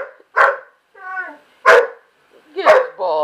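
A dog barks three times in sharp, loud bursts, with a person speaking in between the barks, all close by.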